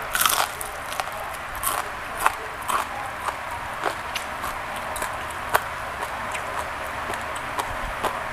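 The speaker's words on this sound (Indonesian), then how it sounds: "Habis ngerongsok makannya bakwan kriuk." Crunchy bakwan kriuk vegetable fritters are bitten and chewed up close, giving repeated crisp cracks and crackles at an irregular rhythm over a soft background hiss.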